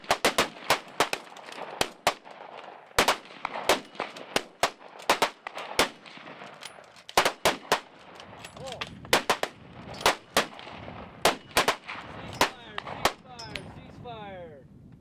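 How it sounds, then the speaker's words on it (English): Weapons fired one at a time and together at an outdoor shooting range, heard as sharp, loud gunshots in irregular bursts and quick volleys across the whole stretch, with light wind in the background. "Weapons were fired both individually"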